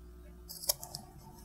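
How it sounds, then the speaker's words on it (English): Scissors trimming the strand ends of a braided rope necklace, heard as a quick pair of faint, crisp snips close by over quiet background. "I'm going to trim that off"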